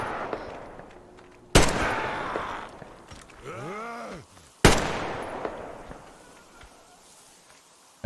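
Two loud, separate gunshots ring out in the post-apocalyptic shooter Metro Exodus, each cracking sharply and then echoing away, with a pained, wavering vocal groan heard between them.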